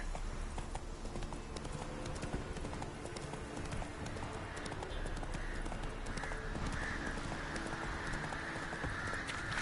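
Horse hooves galloping in The Witcher 3 on PS4, a steady rapid clip-clop rhythm at moderate volume that runs throughout over a faint background ambience.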